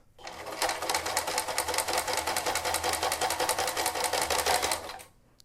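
A sewing machine stitching along a fabric seam through one or two layers runs in a fast, even mechanical rattle, close and loud, starting and stopping cleanly with no voices.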